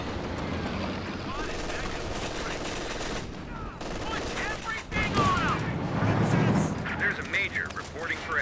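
Light machine guns fire rapid bursts amid other gunfire and explosions in a 2v2 Company of Heroes 2 match, loud crackling volleys that intensify toward the end under a caster's running commentary.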